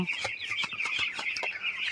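Broiler chickens on a poultry farm keep up a dense chorus of clucks and shrill peeps, many birds at once, close and lively with rapid overlapping calls.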